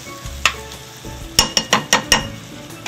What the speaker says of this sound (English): as they begin to caramelize, we'll stir them around a little bit